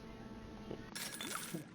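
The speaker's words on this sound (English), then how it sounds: "Breaks open reinforced glass" Reinforced glass shattering in a video game, a sudden bright burst of breaking and tinkling shards that lasts under a second over a low background hum.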